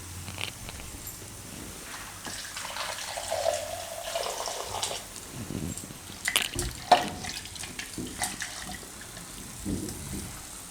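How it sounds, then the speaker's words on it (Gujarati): Water pours into a simmering cashew-peanut methi gravy in a pan, a gurgling stream for a few seconds, then bubbling, stirring clatter and a few sharp knocks nearby, with no talking. "તો હવે થોડુંક એમાં આપણે નાખીશું પાણી."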